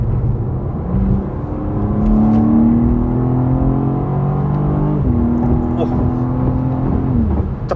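A 2024 BMW M2 engine revs loudly as the automatic torque-converter transmission downshifts, the pitch stepping up and holding before dropping around five seconds in, then rising again, steady and close throughout.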